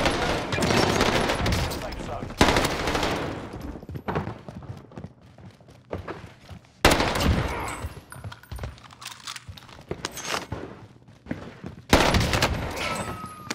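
An STG submachine gun in Warzone on Rebirth Island fires in several rapid, high-rate bursts separated by short pauses, loud and close, with a voice talking over parts of the shooting.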